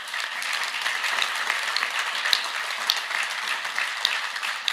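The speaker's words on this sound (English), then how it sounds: "I think that gets a round of applause" An audience at an infrastructure speech in New York City breaks into steady, bright applause, a continuous wash of many hands clapping.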